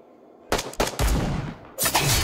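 Loud gunshots in the top-down shooter Bullet Echo: a couple of sharp close blasts followed by a longer sustained burst of fire, then another heavy volley near the end.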